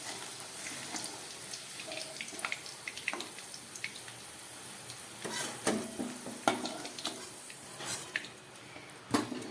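Salted potatoes frying in oil for a tangra fish dish, a soft sizzle punctuated by scraping and stirring clatters of a utensil in the pan, close and moderately loud, no talk.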